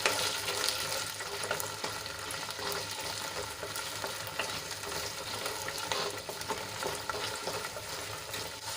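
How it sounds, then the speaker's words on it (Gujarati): Gunda (glue berries) sautéing in a pan, with a dense continuous sizzle and the scrape of steady stirring throughout, close and even in level, no voices. "આ રીતે આપણે એને હલાવતા જઈશું અને થોડાક સોફ્ટ થાય ત્યાં સુધી બે ત્રણ મિનિટ સુધી સાંતળી લઈશું"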